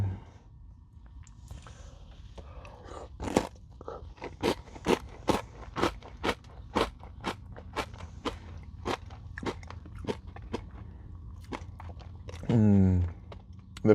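Crunchy Nature Valley peanut butter granola bar being bitten and chewed up close, a run of sharp, evenly spaced crunches sounding loud and dry, with a brief spoken interruption near the end.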